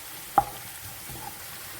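Beef fry sizzles softly in a pan while it is stirred, with one sharp scrape or clack near the start over a faint, steady frying hiss.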